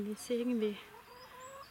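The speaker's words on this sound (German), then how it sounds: "darf ich vorstellen, ist mein Huhn" A hen with paralysed legs gives a few close, soft clucks and brief cackling calls in quick succession, followed by someone speaking quietly.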